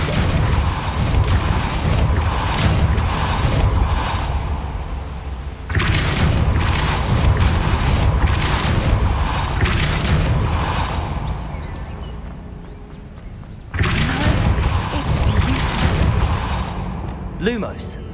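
Depulso force spell impacts in the video game Hogwarts Legacy: loud, dense booming crashes in sustained bursts separated by brief drops, with heavy rumbling throughout and voices mixed into the game sound.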